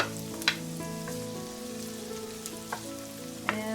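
Garlic sautéing in an oily pan with onions going in, giving a steady soft sizzle with scattered light pops and the occasional scrape of a utensil, plus a faint hum beneath.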